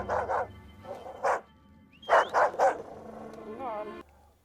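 A malnourished-looking dog in a Tales of the Jedi animated episode barks in short bursts, two quick barks, a single bark, then a rapid trio, ending with a whimpering whine over faint background music.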